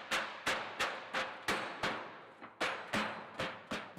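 Metal floor struck with hammers, eleven sharp, loud clanging impacts landing in a fairly even rhythm roughly every third of a second, each ringing briefly before the next blow.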